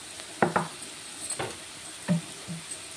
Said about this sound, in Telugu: ఇదంతా ఒకసారి కలుపుకొని